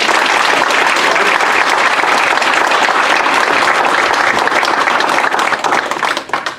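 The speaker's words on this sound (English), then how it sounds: "let's give him a big round of applause." A conference audience claps steadily for a guest speaker, the dense applause filling the room at full strength for several seconds before starting to thin out near the end.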